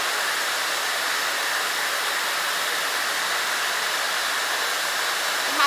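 A Harry Josh blow dryer with an ion switch runs at full power, a loud, close, unbroken airy whoosh that stays steady throughout.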